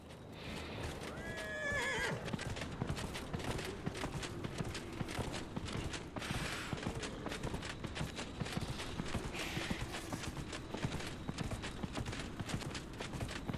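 A horse in Dragon Age: Inquisition neighs once, then gallops in a fast, steady rhythm of hoofbeats that runs throughout, with no voices.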